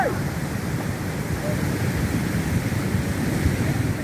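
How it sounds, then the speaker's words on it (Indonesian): A swollen river in a flash flood roars past a riverside tourist spot with stalls in Tangse, a dense, unbroken wash of rushing water that stays loud and steady throughout. "air sungai yang meluap menyapu beberapa kios di lokasi wisata di pinggir sungai"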